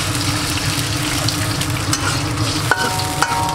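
Water poured into a hot frying pan of fried bean paste sauce and stirred, a loud steady sizzle and scraping with a sharp clink or two near the end.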